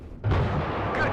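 A sharp burst of gunfire in the Cold War real-time strategy game WARNO, loud and close with a rolling boom that fades into a noisy tail.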